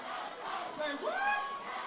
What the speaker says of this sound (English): Great reaction from the crowd to these two fighters.